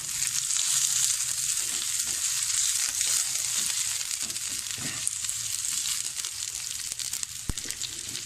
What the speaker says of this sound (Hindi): बस 1 मिनट तक हम शिमला मिर्च को भूनेंगे।